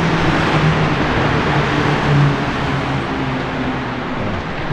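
A 2021 Mercedes-AMG GT Black Series engine and exhaust heard from inside while driving, a loud steady drone and rumble with road noise throughout and slight swells in tone, without clear distinct crackles.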